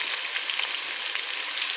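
Garlic frying in a pan, a brief, close, steady crackling sizzle.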